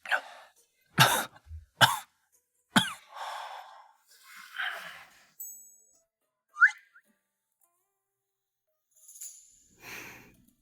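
A man coughs in a burst of several harsh, close coughs at the start, then rasping breaths and sighs, a brief throat sound, and faint scattered sounds afterward, after falling into water.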